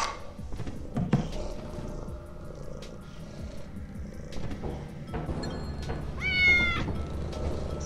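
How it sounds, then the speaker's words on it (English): A cat in the video game Lethal Company lets out a short meow among scattered game clatter and background noise, with no talking over it. "I love this cat, man. The cat is so comforting in my time of distress."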